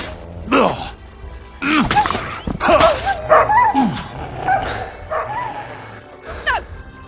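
A dog named Mutz barks, yips and whimpers in repeated bursts, close and loud, in a medieval-set role-playing game, with a voice briefly heard between the barks.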